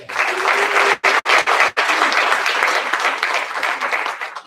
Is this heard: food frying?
no